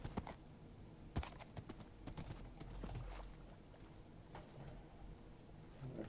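Hooves of a horse in the Minecraft video game clop in a quick, irregular run of light taps, fairly faint, with sparse clicks and no talk.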